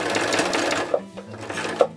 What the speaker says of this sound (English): So I'm just going to sew right the way from the back to the bottom.